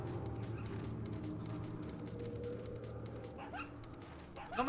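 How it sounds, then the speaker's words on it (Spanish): A dog in Resident Evil 4 gives a few soft, distant yips and whimpers over a low ambient drone of the game, fairly quiet, with a sharper sound near the end. "Mira, ahí está el perrito."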